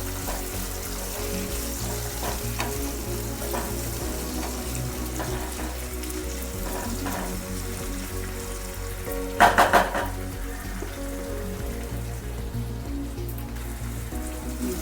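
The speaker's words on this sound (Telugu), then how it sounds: "ఇప్పుడు ఈ టమాటా వేసేద్దాం. ఇది ఒక 2 నిమిషాలు ఫ్రై చేస్తాం." Tomatoes frying in a hot pan for a hotel-style masala chicken curry, a steady close sizzle running throughout, with a brief burst of louder crackling and spattering midway.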